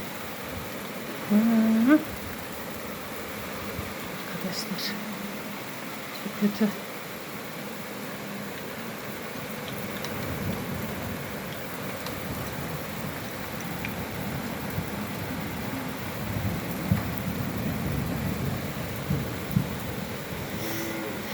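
Steady rain hisses and patters throughout, a soft continuous wash with a low rumble, while a person murmurs and speaks briefly near the start.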